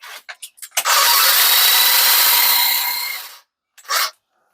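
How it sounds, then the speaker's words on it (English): A WORKPROX 20V cordless extension pole hedge trimmer gives a few quick clicks, then runs for about two and a half seconds with a loud, high, buzzing rasp, cuts off, and gives one more brief burst. "Let me give you an idea how loud this thing is."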